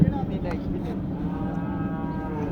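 Low, drawn-out cattle lowing fills the scene beneath a busy crowd murmur at a large cattle and goat market, with no single voice standing out.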